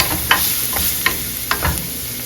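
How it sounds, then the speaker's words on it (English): Garlic frying in a hot pan on high heat, giving a steady close sizzle with several sharp stirring scrapes and taps spaced through it, and no talk. "You just cook the garlic, roast it a little, not much."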